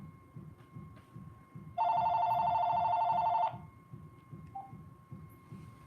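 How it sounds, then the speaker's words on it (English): A phone rings with an incoming call, a single sustained electronic trill lasting under two seconds that stands out loudly over a quiet room with a soft rhythmic ticking underneath. "Oh, it's a phone call."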